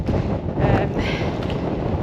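Wind on a fell walk in Great Langdale buffets the microphone in a constant low rumble throughout, loud and close.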